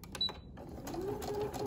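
A sewing machine stitches fabric pieces for bear legs along a 1/4 inch seam, starting with a few mechanical clicks before settling into a steady, close whirring hum, with no talking.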